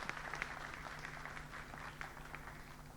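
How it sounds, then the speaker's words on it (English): Faint, distant applause from an audience at an annual awards night, a soft patter of clapping over a steady low hum. "Let's have a huge round of applause for him, please"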